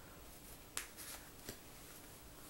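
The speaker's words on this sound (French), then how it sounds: "je vais piocher une carte. Voilà. Donc, je coupe." A deck of cards being cut, a couple of soft close taps and a light papery slap over quiet room hiss.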